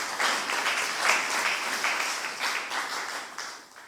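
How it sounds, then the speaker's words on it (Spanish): Sustained applause from a church congregation, steady and dense throughout with no talking, fading slightly toward the end. "Damos una ofrenda de palmas al Señor con todo el corazón."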